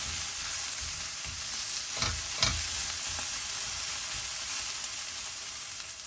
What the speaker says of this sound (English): That's cooking away really nicely, and I can smell that the garlic and chili has cooked off.